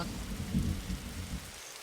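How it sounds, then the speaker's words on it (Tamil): Rain and thunder in a Roblox survival game, a soft steady patter of rain with a low rumbling roll of thunder, faint and with no voices. "இடி வச்சிருவோம் மழை."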